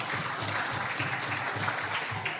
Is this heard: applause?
yes